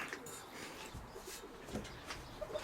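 Pigeons coo softly in a loft, a quiet low murmuring with faint rustles and distant background noise.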